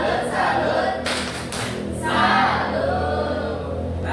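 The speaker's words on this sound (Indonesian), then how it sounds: "Beri tepuk salut." Classroom of students doing a rhythmic 'tepuk salut' clapping routine, several sharp bursts of group claps with thumps, fairly close and loud, no talk over it.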